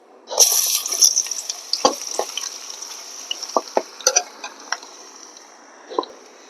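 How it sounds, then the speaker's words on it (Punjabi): Potatoes dropped into hot cooking oil for aloo bhindi, a sharp hiss and sizzle that bursts up at once and then settles into a steady fry, broken by scattered clinks and scrapes from a utensil. "ਹੁਣ ਆਪਾਂ ਆਲੂ ਪਾਵਾਂਗੇ ਤੇਲ ਗਰਮ ਹੋ ਗਿਆ"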